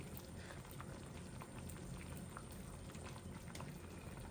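Tomato and salmon khatta curry simmering gently in a pot, a steady low bubbling with small pops throughout, close and alone with no talk.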